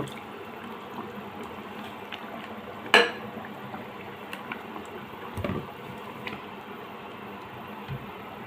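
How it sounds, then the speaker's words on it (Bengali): Milk poured into a pot of simmering beef rezala makes a soft, steady liquid wash with a sharp clink near the middle and a few faint knocks from the pot, all fairly quiet with no talking. "এখন আমি এখানে 1 কাপের মতো দুধ দিয়ে দিব।"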